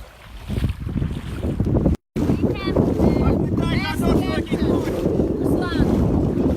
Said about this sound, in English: They've got their sails set up working very well into this southeasterly wind